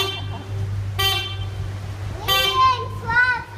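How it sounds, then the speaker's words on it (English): Horn toots sound twice during a boat ride, a short blast and then a longer one, over a steady low engine hum while children chatter nearby. "Honk the horn!"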